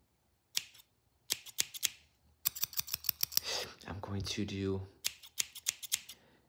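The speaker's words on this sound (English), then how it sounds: "these scissors on the right side and these on the left side" Close, crisp scissor snips in quick bursts during a fast-paced haircut roleplay, alternating with soft whispered speech and a brief rustle between the cutting sequences.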